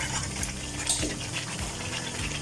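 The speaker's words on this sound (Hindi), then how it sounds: "अब मैं इसके अंदर ये 5 कप पानी ऐड कर रही हूँ।" Five cups of water poured into a pot of browned chicken and potatoes for aloo gosht curry, a steady close splashing and bubbling wash with faint metallic clinks of the pot throughout.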